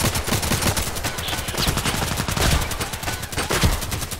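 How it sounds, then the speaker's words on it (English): Machine gun firing in the shooter game Contract Wars, a loud, steady, rapid stream of close shots that carries on for several seconds with no talk. "Or maybe I just take the big, big machine gun. I mean, actually, I really like the machine gun."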